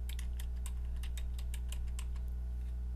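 Someone types search terms on a computer keyboard for a database search: a steady run of crisp key clicks over a constant low electrical hum.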